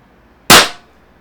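A Tiberius T8.1 high-power pistol fires a 4 g rubber ball, one sharp, loud crack that cuts through near silence and decays quickly.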